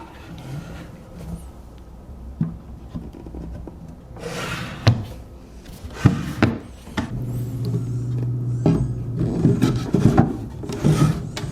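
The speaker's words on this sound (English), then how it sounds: "I'm going to get them installed and move on to hardware." Wooden drawers slide and knock into a nightstand frame, a series of close wooden bumps, scrapes and rubbing thuds in irregular bursts, louder toward the end, with no talking.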